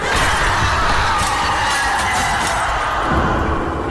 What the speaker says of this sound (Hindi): और उस कॉरिडोर में लगे कांच चकनाचूर हो गए।